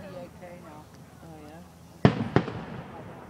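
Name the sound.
fireworks exploding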